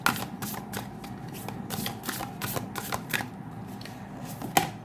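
Oracle cards shuffled by hand during a card reading, a rapid series of crisp riffling flicks and soft slaps at close range, with no talking.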